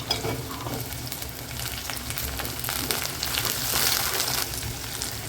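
Green chillies and curry leaves fry in hot oil for a fish kulambu, giving a dense, steady sizzle and crackle with soft stirring scrapes that swell slightly toward the end.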